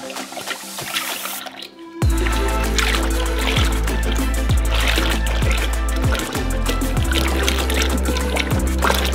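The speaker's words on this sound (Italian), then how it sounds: "Li versiamo nella padella." Fifteen liters of cream pour into a large pan for a giant chocolate ganache, starting after a brief lead-in as a loud, continuous close gushing with repeated glugging pulses throughout.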